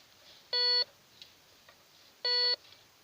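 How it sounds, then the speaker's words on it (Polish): Metal detector sweeping a forest floor, giving two loud, identical electronic beeps with about a second and a half of quiet hiss between them. "Tak wskazuje wykrywacz."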